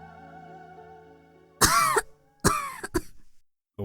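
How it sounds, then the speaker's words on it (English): A female character in the visual novel Kinkoi: Golden Loveriche coughs in a short fit, two bursts of close coughs and then a smaller one, over a soft background music bed that drops away. "She broke into a minor coughing fit."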